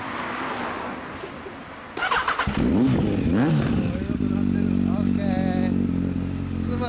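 A 2014 Yamaha XJR1300 with an Over Racing aftermarket exhaust idles and revs loudly with a deep, throaty exhaust note, rising and falling in pitch, with some voices faintly underneath.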